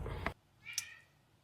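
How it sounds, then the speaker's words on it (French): A house cat gives a faint, brief meow indoors after a short burst of noise, the call quiet and slightly distant. "Fait que c'est mon chat."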